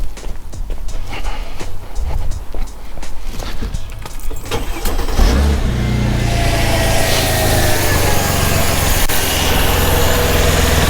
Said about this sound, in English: So let's start the engine and see if that does anything now.